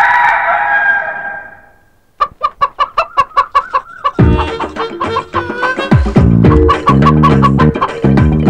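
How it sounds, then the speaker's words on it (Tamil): Chickens in a village setting, a close, loud run of sharp rhythmic clucks that builds into a busy chorus of clucking and squawks, with a rooster-like call heard at the start. "இங்கதான் பார்க்க முடியுது கோழி மேயறத"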